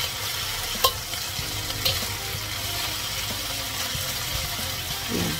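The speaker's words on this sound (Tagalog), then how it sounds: "Yan, gisahin lang natin guys." Fatty pork sautéing in its own rendered fat in a pan, a steady close sizzle and frying hiss with occasional sharp clicks of a utensil stirring against the pan.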